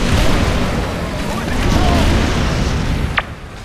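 A bridge explosion in C&C 3 Tiberium Wars comes through as a loud, sustained rumbling roar of blast and battle noise, ending with a brief sharp pop before it fades.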